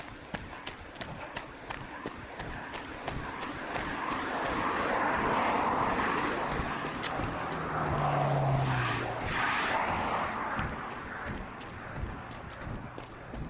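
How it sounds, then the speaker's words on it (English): Car traffic rumbles past near a crosswalk on a walk toward Blenkinsop Trail, a broad steady roar that swells mid-clip and then eases, heard from close by in the open air. "I don't think a little bit of car noise is too distracting"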